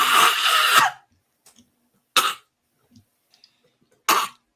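Three separate coughs, the first long and rasping like hacking up a hairball, then two short bursts spaced about two seconds apart, close with faint breaths between them.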